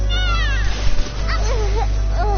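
A cat meows in Genshin Impact, a few short rising and falling cries over steady game music and a low hum, fairly close and clear.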